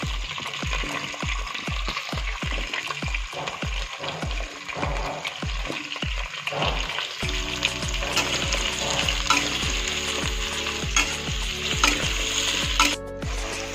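Cauliflower pieces frying in hot oil alongside local potatoes, a loud steady sizzle with repeated rhythmic scraping and stirring strokes in the pan throughout.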